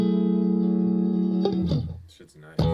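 An electric guitar DI played through the Neural Archetype amp plugin rings out with a sustained, effected chord before a few quicker plucked notes, close and loud in a livestream studio.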